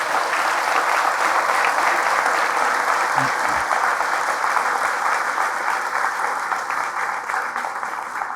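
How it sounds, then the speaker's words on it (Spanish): A church congregation applauds loudly after a priest's sermon: dense, continuous clapping close by, unbroken from start to finish with no talk on top. "Fuertes aplausos a Jesús de Nazaret"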